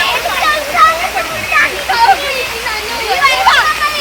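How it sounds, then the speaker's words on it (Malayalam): A large waterfall at Malampuzha gives off a loud, steady rushing roar of falling water, with a voice talking over it throughout. "വലിയൊരു വെള്ളച്ചാട്ടമാണ് വരുന്നത്"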